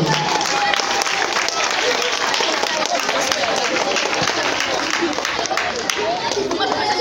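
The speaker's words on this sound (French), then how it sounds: "Un applaudissement pour eux, s'il vous plaît." Steady, dense applause from an audience at a workplace ceremony as honorees are introduced, loud and continuous for the full stretch with crowd murmur mixed in and no break.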